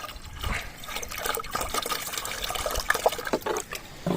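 Liquid sloshes and splashes as diluted urine fertilizer is stirred into water in a 10-litre watering can, with short irregular gurgles up close and no talking.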